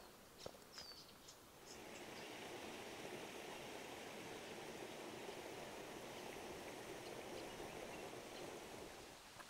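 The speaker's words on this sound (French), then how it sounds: "On entend déjà la cascade" A mini waterfall sends up a steady, broad rush of falling water that stays constant and fairly faint, with a few bird chirps and insect buzzes over it early on.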